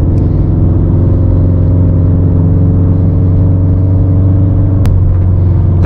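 A Subaru STI with a turbo, tuned to about 400 wheel horsepower on E85, drones loudly and close under acceleration, a steady engine hum with one abrupt break for a gear shift near the end.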